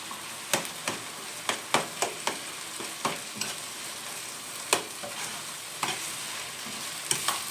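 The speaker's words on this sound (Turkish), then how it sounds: "Kavuruyorum dedim biraz kıymasını" Minced meat being sautéed in a pan for Turkish cabbage rolls, with a spoon stirring and scraping in irregular clicks over a soft, steady sizzle, close and fairly quiet.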